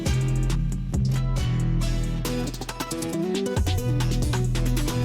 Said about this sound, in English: It gives it this bit crushed chipmunk kind of sound